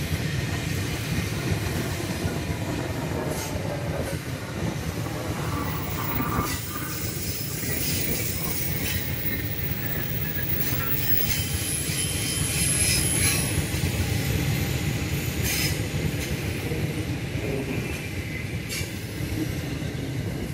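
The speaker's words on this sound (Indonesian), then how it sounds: "Kali ini yang akan papasan komuter lain dan kereta" A commuter electric train and a long-distance train pass each other on tracks 3 and 5 east of the red bridge in Bekasi, producing a sustained, loud rumble of wheels and carriages with faint squeals and rattles throughout.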